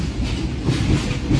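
12787 Nagarsol superfast express train running on the line after Kaikaluru, a steady close rumble with a rhythmic clickety-clack of wheels over the rail joints, briefly and alone.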